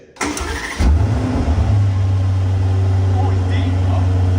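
An Aston Martin DB12 engine with the exhaust valves open starts with a sharp starter whir and a loud bark. It settles into a deep, steady, close idle rumble, and a voice speaks faintly over it.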